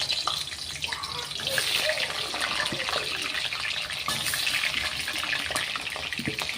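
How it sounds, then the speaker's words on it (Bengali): Peeled new potatoes frying in hot oil in a wok for a village-style chicken curry, making a steady, close, dense sizzle and crackle throughout with faint speech underneath. "ভাজতে দিয়ে দিলাম আলুটা।"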